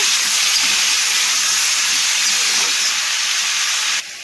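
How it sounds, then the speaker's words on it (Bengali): Raw banana and potato frying in oil give a loud, constant hiss close up, unbroken for several seconds before dropping slightly at the end. "এবার যে কাঁচা কলার আলুটা ছিল সেগুলোকে লাল লাল করে ভেজে নেব।"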